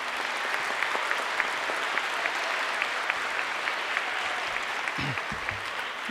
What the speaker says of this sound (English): I think we owe them another round of applause.